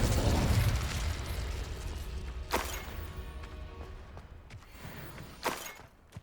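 Two sharp explosive blasts from the Confringo spell in the Hogwarts Legacy video game, spaced about three seconds apart, over a rumbling game soundscape that starts loud and fades.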